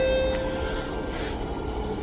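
An MRT metro train pulls into a station, with a short tonal horn or brake whine at the start over a steady rumbling roar of the arriving cars, close by and moderately loud.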